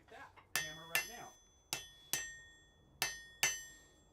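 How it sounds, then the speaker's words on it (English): A Harbor Freight hammer rings against metal in a blacksmith's smithy, six sharp bright strikes in uneven pairs, each with a long metallic ring, close and loud with no talk over it. "Demonstrate that hammer right now."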